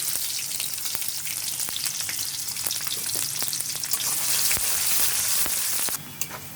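Chopped garlic and onion going into hot oil with whole garam masala for bhuna khichuri, a loud, steady, close sizzle and crackle that continues without a break, with a few stirring scrapes.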